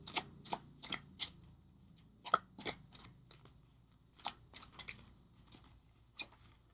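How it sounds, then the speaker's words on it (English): Tarot cards being shuffled and pulled from a deck, a string of short crisp riffling snaps and flicks in irregular bursts, close and fairly quiet, with no talking. "I'm gonna pull another card."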